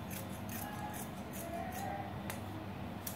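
Scissors snip through a fabric yoke strip in quick, regular cuts, about two per second, close up and crisp, with no talking.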